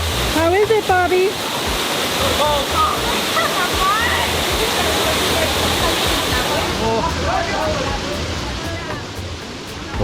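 Water in Juan Diego Creek rushes steadily in a park, a loud broadband flow with no break, while people talk over it and a voice rises now and then.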